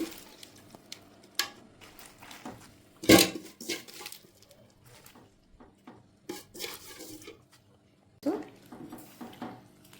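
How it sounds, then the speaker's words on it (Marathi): Spinach is dropped into a pot of boiling water with a spoonful of sugar, giving soft splashes, a louder plunge and scattered clinks of utensils against the pot, close by and without speech. "उकळत्या पाण्यात मी आता ही पालक टाकणार आहे."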